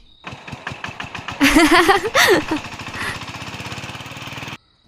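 A voice imitates a shallow water pump engine, close and loud, with steady rapid chugging pulses that swell briefly in the middle before cutting off abruptly.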